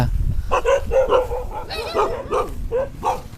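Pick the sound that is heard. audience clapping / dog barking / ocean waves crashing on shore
dog barking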